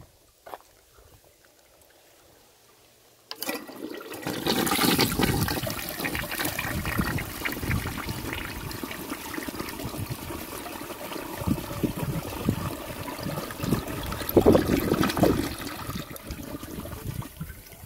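A 1956 Cadet toilet flushes: a quiet moment, then a sudden loud rush of water that roars and gurgles steadily for over ten seconds, with trickling as the bowl drains and no talking.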